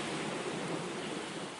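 Steady rain pours down during a thunderstorm in Okehampton, a dense, even hiss of falling water with no breaks, heard alone and moderately loud.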